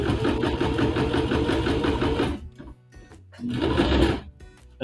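A sewing machine running a back stitch on fabric: a fast, loud mechanical rattle runs steadily, stops briefly, then resumes in a short burst before stopping again.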